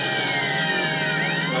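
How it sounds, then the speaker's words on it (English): Emergency vehicle sirens wail in Grand Theft Auto: San Andreas, loud and continuous, with layered rising and falling tones sweeping across the short stretch. "And turn off the sirens."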